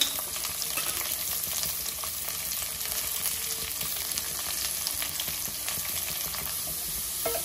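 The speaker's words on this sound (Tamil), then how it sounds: "இப்போ நம்ம வந்து கருவேப்பிலை, இப்போ வந்து சின்ன வெங்காயம் ஒரு 100 கிராம் போல் சின்ன வெங்காயம் கட் பண்ணி வச்சுருக்கேன், அதை வந்து சேர்த்தாச்சு." Roughly 100 grams of cut small shallots and curry leaves fry in a pan, giving a loud, steady sizzle throughout with light stirring and no voices.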